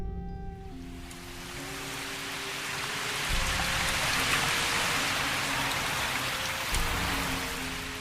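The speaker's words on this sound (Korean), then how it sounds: "다시 비가 억수로 쏟아지기 시작했다" Heavy rain pours down steadily, a dense, loud, continuous hiss of downpour on a mountain path, with low tonal music underneath.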